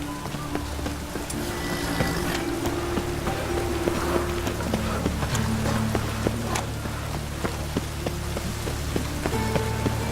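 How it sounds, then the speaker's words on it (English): Steady rain patters on surfaces throughout in the video game The Witcher 3: Wild Hunt, with a low hum and sustained tones underneath and occasional sharp clicks and footstep-like taps. "Must be mad running around in this rain."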